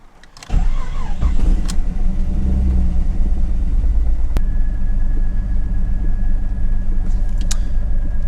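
A Jeep 4.0 engine with 208,882 miles, freshly repaired with J-B Weld on a cracked cylinder head, cranks and catches, then settles into a steady, close, loud idle with a smooth continuous rumble; no one talks.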